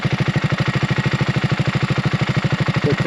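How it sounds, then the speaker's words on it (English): A hot BSA Rocket Goldstar motorcycle engine idles at a high tick over, its steady, even pulses thumping close and loud with no voices. "that bike engine will be hot, right? And you hear it there, it started ticking over quite high"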